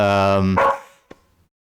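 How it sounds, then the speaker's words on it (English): A dog gives one long, loud drawn-out bark-howl close by, followed by a brief faint yip, with no talking over it. "my dog is barking now, of course"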